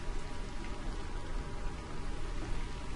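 Steady rain in a horror video game, a dense continuous patter and hiss filling the space at an even level throughout, with no voices over it.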